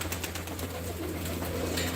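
Pigeons, including brightly dyed hobby birds, coo softly while perched below, a low murmuring sound over a steady hum, close but faint.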